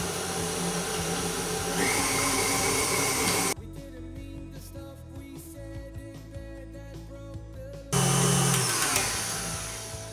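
An electric mixer whirs loudly and steadily as it blends ricotta into a light courgette and mint terrine mixture. It cuts out briefly midway and then resumes, with no talking.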